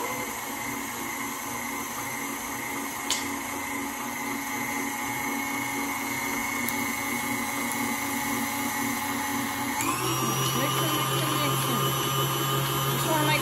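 Electric hand mixer beating hummingbird cake batter, a steady close whirring motor hum that shifts up in pitch and grows louder as the speed increases partway through.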